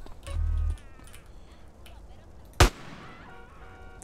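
GTA San Andreas gameplay carries a muffled early thump and then one sharp, loud shotgun blast with a ringing decay, set against faint game ambience.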